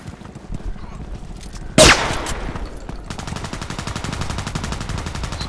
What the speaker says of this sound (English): I just play a little round here with the Veresk small machine gun